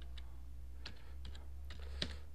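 Quick bursts of key clicks on a computer keyboard during JavaScript web-page coding, a few separate taps then a short cluster, close and fairly quiet over a steady low hum.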